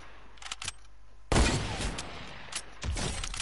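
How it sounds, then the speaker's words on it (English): Gunfire from a no-scope sniper trick shot in a first-person shooter video game: a few sharp shots, then a loud crack with a booming tail, followed by another burst, close and prominent. "I'm trying to no scope him from like 7 meters away"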